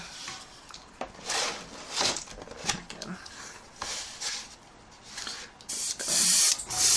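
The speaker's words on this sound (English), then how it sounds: "I like to do a little bit of a test spray to make sure everything's flowing nicely." A hobby airbrush gives short test sprays of paint, several brief hissing bursts with pauses between them, close and fairly loud, the final burst longer than the rest.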